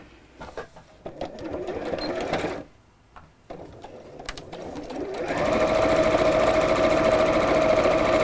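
A sewing machine stitches an apron in short, rattling bursts with pauses, then settles into a longer steady run of fast, buzzing mechanical stitching, close and clear.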